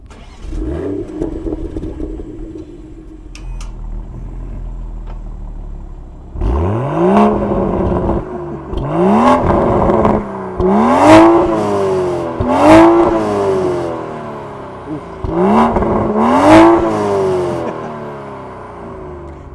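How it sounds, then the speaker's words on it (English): A 2023 Toyota GR Supra with a 6-speed manual cranks and catches, then revs repeatedly in sharp rising bursts that fall back to idle, loud and close with no talking. "So let's go ahead and fire it up."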